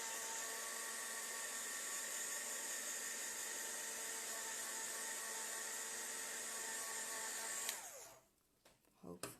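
A hair dryer drones close and steady over smooth plastic pieces for a surfboard collection layout, a constant whining blow that cuts off abruptly near the end, leaving faint handling noises.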